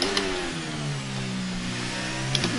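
F1 car engine in F1 23 revving through a gear with a sharp upshift near the end, steady loud engine tone with harmonics rising and dropping, no talk.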